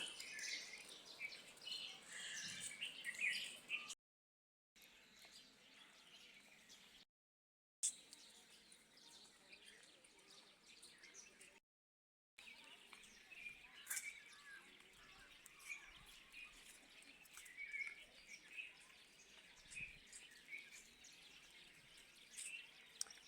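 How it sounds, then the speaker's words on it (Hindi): Many birds chirp and tweet among big trees on a morning outdoors, a faint, dense chorus of high calls with brief gaps and no talking. "कितने पक्षियों की चहचहाने की आवाज़ आ रही है।"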